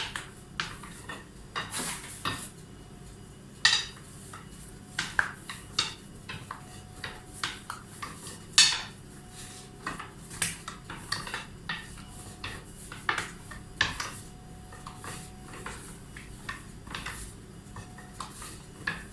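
Yeasted katmer dough being rolled out on a kitchen surface, giving soft repeated knocks and taps of a rolling pin with faint scraping, moderately close and steady across the stretch with no talking.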